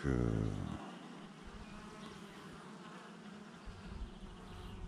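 A dense, steady buzzing of many bees hums close by, with a brief voice at the very start.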